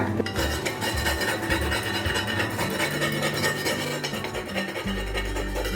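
An old iron dosa tawa being scrubbed hard, giving a continuous, gritty rubbing and scraping that is close, steady and fairly loud, with no voices.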